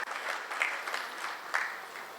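Faint, thin applause from an audience greeting Dr. Pravin Gedam at a public interview event in Nashik, light scattered clapping heard at a distance.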